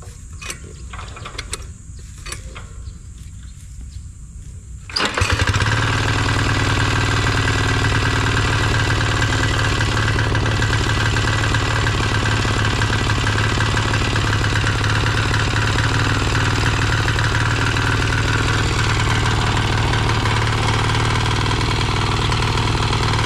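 A grass cutter on a farm plot where eggplant is grown starts after a few seconds of quiet rustling and soft clicks, then runs at a loud, steady engine drone without a break to the end.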